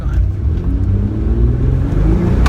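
A GMC Typhoon accelerates hard, its engine a loud, steady low rumble that holds without a break, close and continuous.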